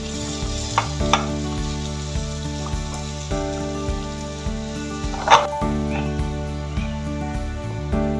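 Coriander being stirred into a potato and egg curry, with soft scraping and occasional clinks over a low steady hum and a faint background sizzle.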